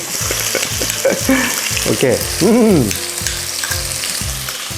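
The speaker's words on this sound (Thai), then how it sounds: "ผัดพริกกันก่อนเลย ผัดตัวกะปิให้หอมนิดนึงครับ" Chili paste with shrimp paste sizzling and frying in hot oil with stirring scrapes, while a person speaks briefly over it.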